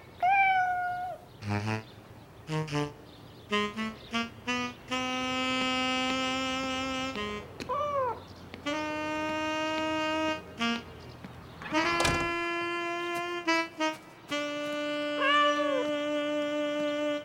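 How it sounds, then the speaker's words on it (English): A cartoon house cat meows repeatedly and loudly, a series of long, drawn-out and short calls with brief gaps between them, alone without talk. "No cats on the table."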